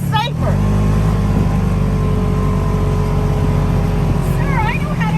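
An ATV engine revs loudly and continuously during a desert ride, a close, steady motor roar with rising and falling pitch, accompanied by brief voices.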